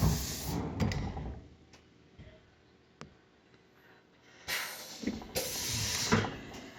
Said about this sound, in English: gotta close the door.